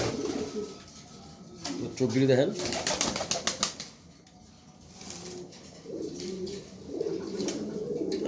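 A female grizzle pigeon held in the hand gives soft, low cooing in short bursts near the start and again toward the end, with someone talking close by throughout.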